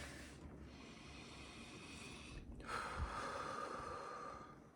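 A slow deep breath, drawn in and then let out as a soft close hiss, with a brief pause between inhale and exhale and no talking.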